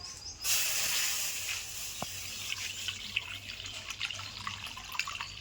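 About half a litre of milk is poured into a kadai (wok) to make homemade milk ice pops. It starts with a sudden, steady rushing stream that settles into a softer, continuous pouring hiss. No one speaks.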